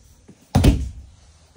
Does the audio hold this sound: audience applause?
no